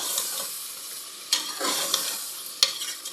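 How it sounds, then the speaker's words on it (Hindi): Chicken haleem masala fries in a pan for a Hyderabadi haleem, giving a steady close sizzle broken by a few sharp scraping stirs, with no talking. "अभी हम इसको थोड़ा सा भूनेंगे।"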